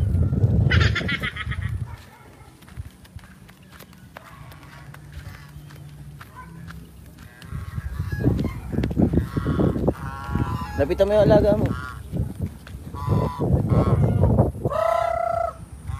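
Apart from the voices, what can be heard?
swans honking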